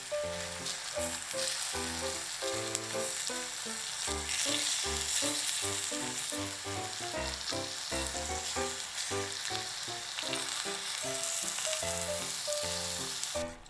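Meat searing in a sukiyaki hot pot, laid over green onions, gives a steady, close sizzle that runs without a break. A rhythmic musical backing plays throughout.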